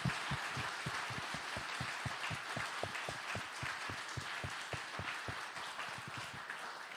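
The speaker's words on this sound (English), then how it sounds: "Can you please also clap hands for her?" An audience at an education summit claps in a sustained round of applause, with individual hand claps standing out over a dense, even wash of clapping from the crowd throughout.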